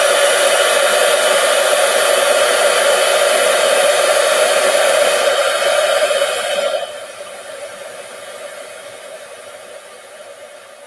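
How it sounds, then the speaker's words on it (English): A handheld craft heat tool blows hot air over red ink on a card, a loud steady whooshing roar that drops to a quieter, lower hiss partway through and continues alone. "now let's grab the heat tool, and we are going to heat up"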